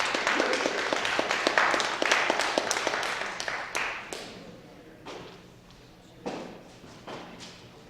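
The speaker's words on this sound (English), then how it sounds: "let's give a round of applause for him" A crowd claps in a dense burst of applause that thins out to scattered claps and fades over several seconds.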